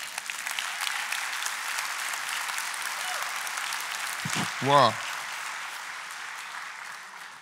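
A church congregation applauding during a Spanish-language sermon, a steady sustained clapping throughout with a brief spoken exclamation near the middle.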